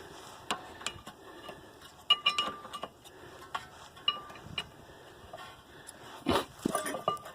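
Metallic clicks, taps and clinks while a brake caliper piston is pressed in and metal parts are handled on the rear brakes of a 1991 Honda Accord, scattered and fairly quiet with no talk.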